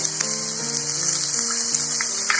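Chopped ginger and green chilli sizzle in hot oil with sliced onion, a steady, bright frying hiss throughout, joined by a faint tonal hum.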